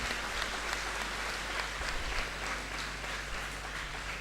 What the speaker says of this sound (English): I think she deserves a huge round of applause.